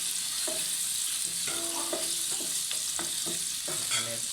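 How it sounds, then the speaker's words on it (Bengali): Bitter gourd fried over high heat for a bitter gourd stir-fry, giving a steady close sizzle with scattered clinks and scrapes of stirring throughout. "আমি কিন্তু করলাটা হাই হিটে ভেজে নেব।"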